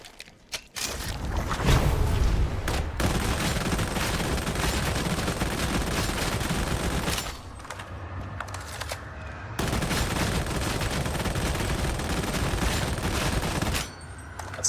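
A heavy stubber machine gun in Warhammer 40,000: Darktide fires two long, sustained automatic bursts of several seconds each, loud and close, separated by a short pause.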